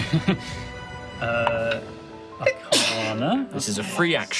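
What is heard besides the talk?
sneeze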